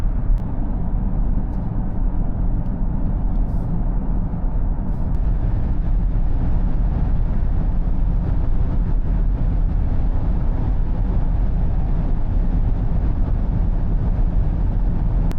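Steady muffled road and wind roar inside a Mercedes-Benz GLC 400 electric cruising on the highway at 120 and then 200 km/h, a continuous low hum with no voices.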